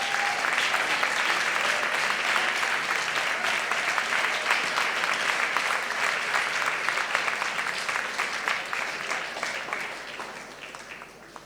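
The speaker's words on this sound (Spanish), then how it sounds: "un aplauso a Michael" A church congregation claps steadily for a long stretch during a special anniversary service, a dense, even patter that gradually thins and tapers off toward the end.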